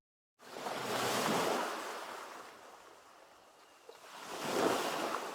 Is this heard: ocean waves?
yes